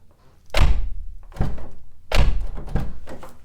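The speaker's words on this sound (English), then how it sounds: "It's gonna sound like a carbon fiber door." A Subaru WRX car door slams shut with a heavy thunk, then closes again twice more, each solid close followed by a short ring-out.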